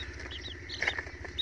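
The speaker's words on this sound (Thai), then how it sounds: "อันนี้คือ ลูกไก่ในกำมือครับผม" Baby chicks held in a cupped hand at a first-time home chicken-raising setup, giving high, faint peeps over a low background rumble, with a brief cluster of sharper chirps near the middle and another at the end.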